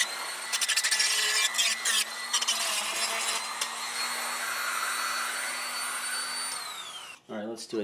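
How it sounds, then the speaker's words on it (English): A Dremel rotary tool smooths the edges of wooden whirligig turkey blades, its high steady whine running loud and close for several seconds before cutting off near the end. "smooth those edges down with the Dremel"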